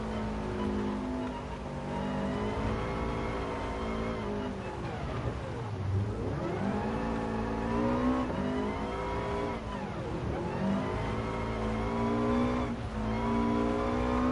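Rally car engine in Gran Turismo Sport running steadily loud throughout, with repeated rising and falling revs as it shifts and slides through corners, no voices over it.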